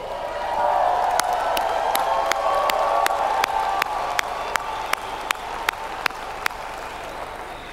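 A keynote audience at a corporate business event bursts into sustained applause, a dense wash of clapping that swells in and holds steady across the room, with a few sharper claps standing out near the end.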